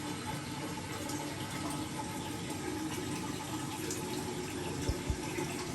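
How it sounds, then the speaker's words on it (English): Water drains from a sink after the plug is released, a continuous steady gurgling rush close by, with two brief low knocks near the end and no speech. "I'm going to now release the plug in the sink"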